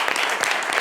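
An audience applauds on a French football talk show, a brief steady wash of clapping with no pause.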